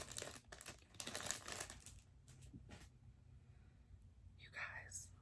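Crinkly plastic packaging crackles and rustles up close as an item is pulled free, with bursts of dense crinkling followed by quieter handling and a soft whisper near the end.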